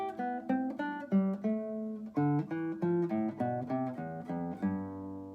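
Open strings of a classical guitar plucked one after another from high to low, a steady sequence of clear, ringing notes close up with no talking.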